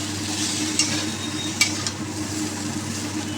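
Spices with ground black pepper paste fry in a pan for a vegetarian curry, giving a soft constant sizzle with a few sharp scrapes of stirring, close by and without talk.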